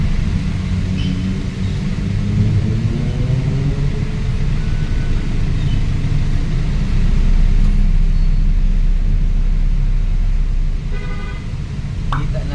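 Congested road traffic in which several vehicles are stuck, with a constant low engine rumble and short car-horn toots near the end.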